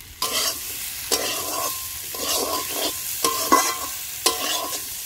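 Chopped tomato goes into spices sizzling in a frying pan for a thin magur fish curry, with steady frying and repeated sharp stirring scrapes against the pan, close and fairly loud.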